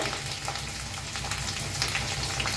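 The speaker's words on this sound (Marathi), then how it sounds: "हिरवी मिरची लसूण बारीक असं वाटून घेतलं होतं बघा ते बी छान असं भाजून घ्यायचं तेल" Ground green chili and garlic paste sizzles in hot oil in a pan, a dense continuous frying crackle heard up close and alone.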